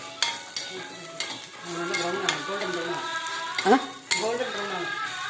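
Chopped onions with crushed ginger and garlic sauté in a hot pan, giving a soft steady sizzle broken by spoon scrapes and sharp metallic clinks, with a voice talking intermittently over the cooking.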